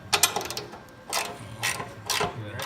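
Ratchet with a 1/2-inch socket tightening bolts while assembling a John Deere 47-inch snowblower, three close bursts of rapid clicking pawl strokes separated by brief pauses.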